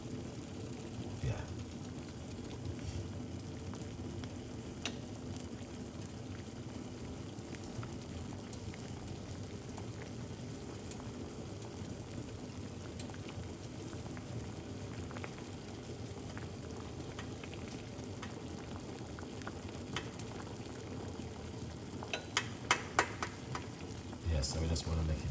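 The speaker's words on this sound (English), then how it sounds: "So we need it to boil up for a few minutes." A lemon mixture boiling in a pot, a soft continuous bubbling hiss heard up close, with a few louder clinks near the end.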